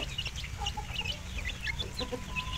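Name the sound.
village chickens clucking on a farm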